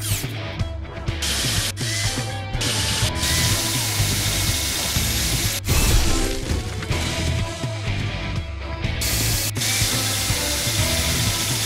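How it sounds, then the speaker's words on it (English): A busy mechanical whirring and ratcheting of a drill in the Paw Patrol: The Movie video game runs steadily over looping background music with a few brief cutoffs. "Move this to place the drill."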